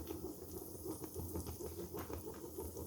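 Mustard seeds, urad dal and curry leaves sizzle in hot oil for a tempering, a steady close hiss with light crackling and popping that continues unbroken.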